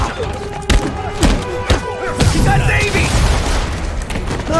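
Enemy gunfire in Marvel's Spider-Man: several sharp, loud shots and thuds in an uneven burst early on, then a rumbling crash and continued action noise, with someone talking over parts of it.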